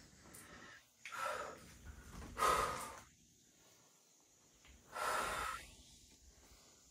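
Heavy exhalations during a standing glutes workout, three strong breathy bursts spaced a couple of seconds apart, close and fairly loud, with quieter breathing between them and no talk.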